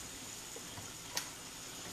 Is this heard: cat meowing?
no